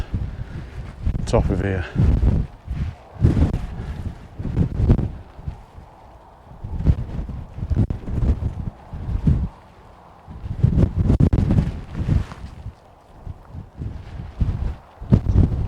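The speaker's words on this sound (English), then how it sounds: "it is pretty windy, as you can probably hear" Strong gusts of wind buffet the microphone on an exposed fell summit in the Lake District, roaring in uneven surges while someone talks over it and footsteps crunch intermittently.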